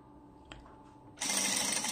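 A sewing machine stitches the hem of a flared circle skirt: near-silence and a faint tap, then a loud, steady, close-up whirring run that starts abruptly and continues to the end.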